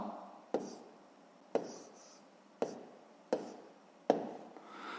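Pen strokes scratch and tap across paper while fractions are worked out, five distinct close marks at roughly one-second intervals, each with a sharp start trailing into soft scratching, no talking.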